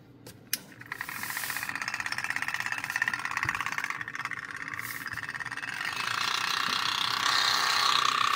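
A magnetic lab stirrer motor whirs steadily with a rough, rattling buzz and hiss, its pitch and intensity rising toward the end.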